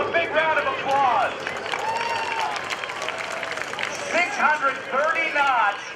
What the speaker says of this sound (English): Let's give Woodward, Hank Woodward, a big round of applause.